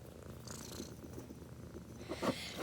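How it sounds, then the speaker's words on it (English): A kitten on a lap purrs softly and steadily close by, a low continuous rumble with a slightly louder stir near the end. "If y'all can hear this kitten purring on my lap"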